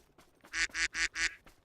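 A man imitates a duck with his voice, giving four loud, nasal quacks in a quick even rhythm, close to the microphone, with no other talk.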